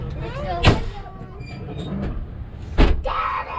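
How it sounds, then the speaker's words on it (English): A used Class C motorhome door shuts twice with loud, close thuds on a test drive, set against a steady engine and road rumble while people talk. "It's so noisy when they close that door."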